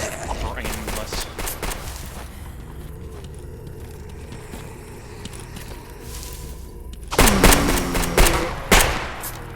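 Gunfire in S.T.A.L.K.E.R. G.A.M.M.A., an allied ecologist firing on enemies: scattered distant shots under a murmur of game sounds, then loud, close sharp cracks near the end.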